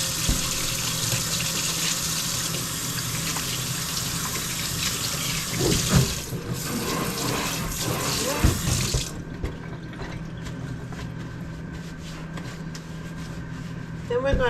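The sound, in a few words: water running from tap while washing hands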